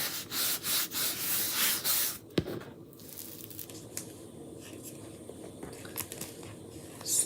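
A Chalk Couture transfer is rubbed down by hand in a series of rhythmic, close, scratchy strokes, followed by quieter scattered rubbing and light handling noises.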